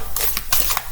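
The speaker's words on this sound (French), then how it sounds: "ce que vous entendez là, c'est juste les glaçons. J'ai mis la machine à glaçons en route." An ice machine making ice cubes, a short burst of bright clattering and crackling as cubes drop, several quick hard knocks close by, with no speech.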